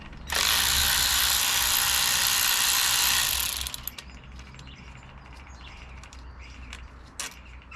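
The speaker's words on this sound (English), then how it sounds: "we'll just take that bolt out there, which is a 10mm socket requirement" Ratchet with a 10mm socket backing a bolt out of a blind hole on a Yamaha 20A two-stroke outboard engine, a loud close burst of rapid clicking for about three seconds, then quiet with light knocks and faint birdsong outside.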